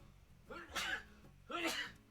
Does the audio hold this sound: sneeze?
yes